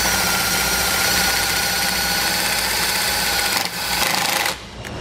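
A power drill drives a self-tapping screw into a 2020 Ford during diode wiring kit installation, a steady whirring motor hum that drops off briefly near the end.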